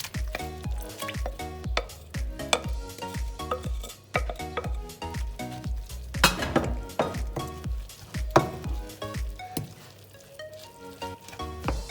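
Chopped onions fry in five spoonfuls of olive oil for stuffed eggplant, a close, busy sizzle mixed with rhythmic tapping and clattering of utensils against the pan.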